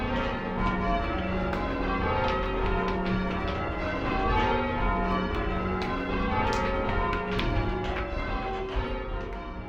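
Hand-rung church bells sound in change ringing at one of America's oldest towers, overlapping strikes tumbling in a steady, slightly uneven sequence of rich ringing tones that sustain loudly throughout.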